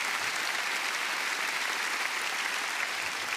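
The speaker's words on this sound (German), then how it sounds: "Schon mal Applaus für dich" Studio audience applause on a cooking show, a steady, even wash of many hands clapping for over three seconds without a break.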